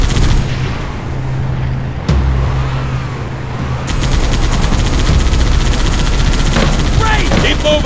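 A chopper's droning engine in the Halo 3 ODST video game, a steady low hum through a battle, with dense gunfire and explosions building up in the second half.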